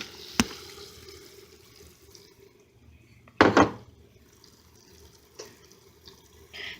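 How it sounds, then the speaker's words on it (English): Ramen noodles going into a pot of boiling water, heard as a sharp clink, then a splashy hiss and a softer knock, all close and sparse over a low bubbling background. "Water's boiling, so in go the noodles."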